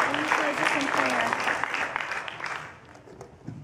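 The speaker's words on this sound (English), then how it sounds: "Can we give God another clap offering?" An audience claps at a children's church musical. The applause is moderate and warm, with speech over it, and it thins out toward the end.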